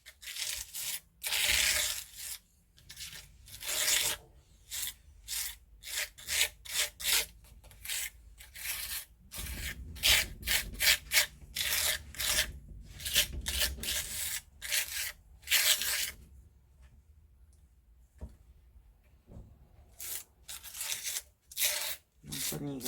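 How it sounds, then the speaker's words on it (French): Sand texture paste spread and scraped across a surface for a mixed media cutting board project, heard as repeated close, dry rasping strokes in irregular bursts, with brief pauses between passes. "Vous entendez le sable"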